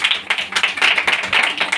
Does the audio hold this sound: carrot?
no